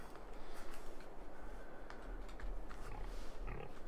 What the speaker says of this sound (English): Cool pigs.